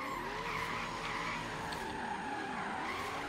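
A Mazda RX7 Hoonigan drifts in Forza Horizon 3, its tires skidding and squealing continuously over a droning engine, loud and unbroken throughout.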